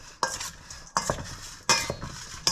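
A utensil scrapes and clatters through food with olive oil in a bowl, in four distinct strokes spaced roughly every second, close and fairly loud.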